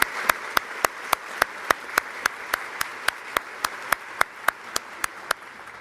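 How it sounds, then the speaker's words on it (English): Applause at the Georgia Women of Achievement induction ceremony for the Board of Trustees: a steady series of sharp, evenly spaced claps, fairly faint, as if from a few hands, with no talk over it. "Would you please give a round of applause to the Board of Trustees for the Georgia Women of Achievement?"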